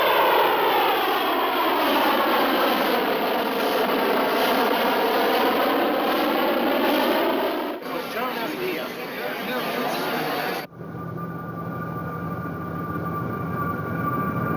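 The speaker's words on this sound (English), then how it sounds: "We are about to land." A fixed-wing airliner comes in to land, its engines a loud, continuous roar from inside the cabin that drops abruptly near the end to a quieter hum.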